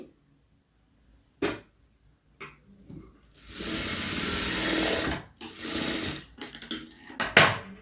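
A sewing machine stitches a sleeve: short bursts of motor whir, then a sustained run of rapid stitching lasting a couple of seconds, followed by more brief bursts, close by amid quiet pauses.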